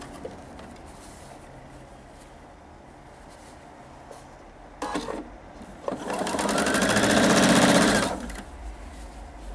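A sewing machine stitching a bias strip seam at a very short stitch length, a faint hum at first, then a short stop-start burst before a loud, rapid whirring run that eases off.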